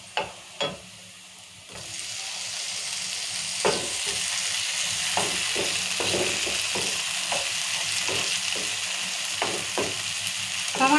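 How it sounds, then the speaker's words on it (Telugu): Tomatoes frying in oil with onions, chillies and curry leaves: a quiet start with two sharp knocks, then a steady hissing sizzle punctuated by regular spatula taps and scrapes against the pan, with no talking. "టమాటాలు మంచిగా నూనెలో మగ్గాలి."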